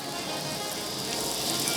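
Chopped vegetables sauté lightly in a pan for rice porridge, with a soft, steady sizzling hiss, brief and close.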